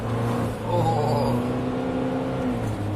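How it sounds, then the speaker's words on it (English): Ford Ranger FX4 pickup with a 2-litre turbo engine pulling hard on a smooth, twisty mountain pass road, a steady loud drone of engine and road noise throughout, briefly dipping then surging again, with no talk. "that's little 2-litre turbos working hard"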